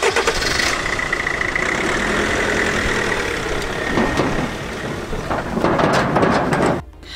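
A blue Mercedes Vito van starts up and settles into a steady, loud mid-pitched idle nearby, the engine droning on for several seconds before cutting off abruptly near the end.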